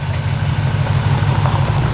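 Engine of an abandoned 1969 Ford F250 Crew Cab, revived after 21 years, running with a loud, steady, throbbing low idle close by and no voices.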